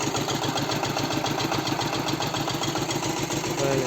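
A Kentavr 160V walk-behind tractor hitched to a large trailer idles steadily nearby, its engine throbbing in a fast, even knock throughout with no pauses.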